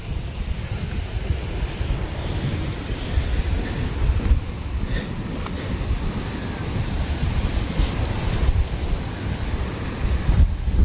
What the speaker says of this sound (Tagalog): Taas na ng hangin.